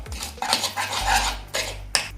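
A metal spoon stirs a chicken marinade of salt, lemon juice, spice powder and ginger-garlic paste in a bowl, giving close, repeated clinks and scrapes against the dish, with no talking.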